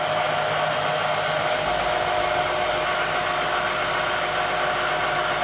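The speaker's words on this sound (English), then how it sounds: "Watch this machine when we start this next hole." Bridgeport milling machine fitted with ClearPath servos and a Masso controller, starting a cut: a loud, steady whirring drone with a high tonal whine runs unbroken throughout, with no voices.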